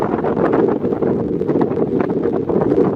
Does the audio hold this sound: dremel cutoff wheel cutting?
no